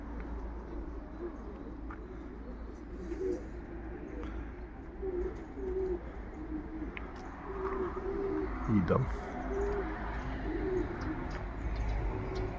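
Domestic pigeons coo steadily at a rooftop loft, a low repeated murmur running through the whole stretch alongside wingbeats and scattered chirps, while someone talks over them.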